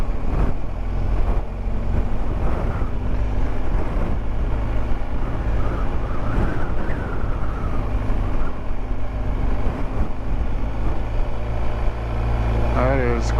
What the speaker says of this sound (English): That is quite the wind.